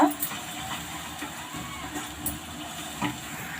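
Egg fried rice sizzling in hot oil in a pan, a steady close hiss with faint scraping and stirring ticks throughout, under no talk.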